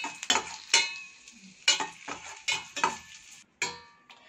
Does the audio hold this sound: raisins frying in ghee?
yes